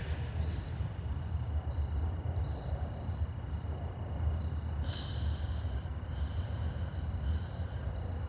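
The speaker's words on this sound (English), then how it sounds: "sometimes I can hear the birds and sometimes I can hear the crickets" Crickets chirp outdoors in a steady high-pitched trill, moderately faint, over a low background rumble with no voices.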